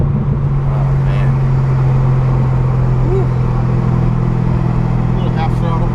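A 2013 Corvette Z06 on a race track holds a steady engine drone at half throttle, loud and continuous from inside the car.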